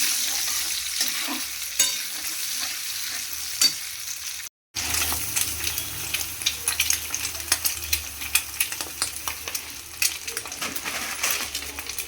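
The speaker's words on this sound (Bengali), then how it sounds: "ডিমের মধ্যে মুড়িটাকে দিয়ে ভালো করে ভেজে নিচ্ছিলাম" Puffed rice frying with egg in a pan, a loud continuous sizzle with sharp clinks and scrapes of stirring, up close and alone, briefly cut by a silent gap.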